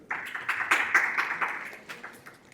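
Studio audience applauding as the next participant steps forward on a French dating game show, a quick scattered burst of clapping that swells and then thins out.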